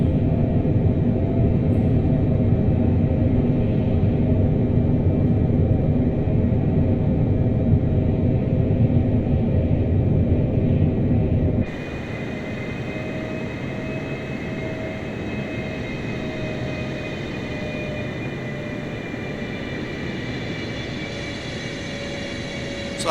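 Boeing 747 engines drone steadily in flight inside the MSFS 2024 simulator, a loud continuous rumble with hiss that shifts abruptly midway to a lighter, thinner tone with a faint whine, no talking.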